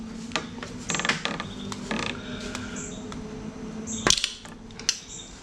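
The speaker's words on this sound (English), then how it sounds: "I just usually take a flat blade screwdriver and just kind of put between the seal and the crank" Faint scraping, creaking and small metallic clicks as a flat-blade screwdriver pries at the crankshaft seal of a Honda K-series engine, with scattered taps and a sharper knock near the end.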